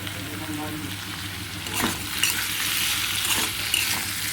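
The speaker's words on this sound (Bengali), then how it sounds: "হলুদ আর নুন দিয়ে আরও এক মিনিট মতন আমি নেড়ে চেড়ে নেব" Kudri and potato curry cooking in a pan with salt and turmeric, sizzling continuously up close as a utensil stirs through it, bringing occasional louder scrapes and swishes.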